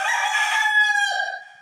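A rooster crows once on command, a loud, close, harmonic cock-a-doodle-doo that holds steady and then trails off, with no one talking.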